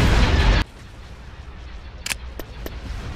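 Starship cannons fire in a Star Wars: Empire at War space skirmish: a loud burst of blasts cuts off abruptly, followed by a low rumble and a few sharp distant shots.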